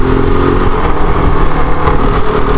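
Kove 450 Rally 2024 motorcycle engine while riding, a loud close buzzing drone with a pulsing exhaust note that wavers as the revs shift, steady throughout with no talk.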